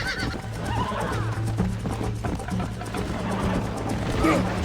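A horse in Red Dead Redemption gallops with a steady drumming of hooves and lets out a shrill, wavering whinny, close and prominent over the game's background sounds.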